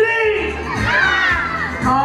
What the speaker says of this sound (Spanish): quiero concluir con una porra. Pero de esa porra, ¿cómo gritan?